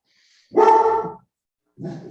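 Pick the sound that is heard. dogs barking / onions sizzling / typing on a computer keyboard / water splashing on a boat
dogs barking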